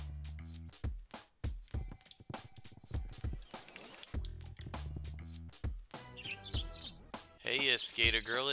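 Chirpy bird voices from the skateboarding video game SkateBIRD babble in quick bursts over busy game music, rising into a dense flurry of bright tweets near the end.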